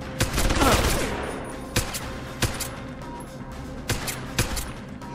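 Gunfire in the video game Deus Ex: Human Revolution opens with a dense burst of automatic shots, then sharp single cracks come at irregular intervals over a steady game background.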